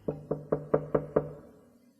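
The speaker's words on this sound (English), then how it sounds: "At Stella Vixen's door, he stopped and knocked quietly." Six quiet, evenly spaced knocks on a door sound close and hollow, each with a brief woody ring, in a steady rhythm with no voices.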